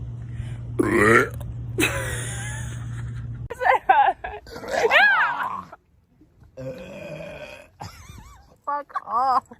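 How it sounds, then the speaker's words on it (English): A woman lets out several deep, croaking burps, some long and gurgling, with laughter and talk around them between pauses. "I'm about to burp again."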